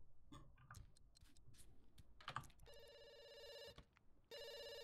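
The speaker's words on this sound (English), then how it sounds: "Someone is calling on the phone." A phone rings in The Sims 2, with a few soft clicks and taps first and then a bright electronic trill that sounds twice and breaks off briefly between rings.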